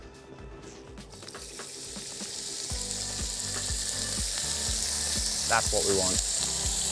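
Lamb hitting a hot, smoking pan with extra virgin olive oil bursts into a loud, steady sizzle that swells and crackles as the meat is spread around, with someone talking briefly over it.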